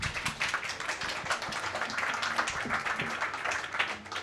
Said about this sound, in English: You can all give them a round of applause.